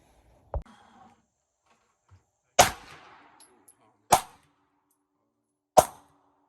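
Isolated gunshots from a shooting game firing a bear rifle with a red dot sight: four sharp, separate cracks a second or two apart against near silence, each with a brief ringing tail.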